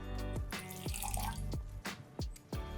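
Water poured from a tap into a blender for a smoothie made with frozen cubes, a steady running splash broken by several sharp drips and plops, close and fairly quiet, with no talking.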